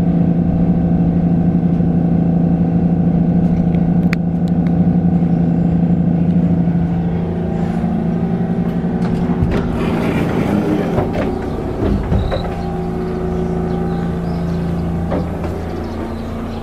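Limited express train Ishizuchi 16 pulling into Nyugawa station, a steady low rumble and hum of the train slowing, with brief clunks and rattles near the end as it comes to a stop.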